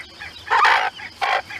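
Two short, bright Mearns quail calls sound close by, one after another with a brief pause between them, over a quiet background.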